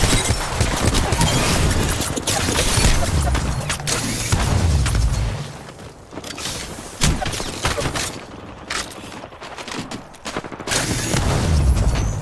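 Rapid gunfire from the video game Apex Legends during a gun run plays in dense, loud bursts of shots with mechanical clatter and booms, continuing almost without pause.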